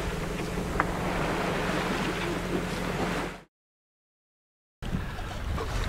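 A sailboat motors under engine power across a calm, windless ocean toward tropical islands, giving a steady low engine drone with water and wind rush that cuts out briefly into silence, then resumes; no one speaks.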